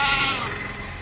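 A crossbreed goat at a livestock sale gives a single short, loud bleat up close that trails off within a second.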